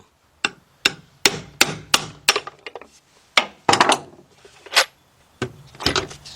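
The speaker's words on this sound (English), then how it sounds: "Take your hammer and at an angle and going down." A hammer strikes at an angle to tap out a spark plug tube seal on a Chrysler engine with the valve cover off, a dozen or so sharp, close metallic knocks in an uneven rhythm.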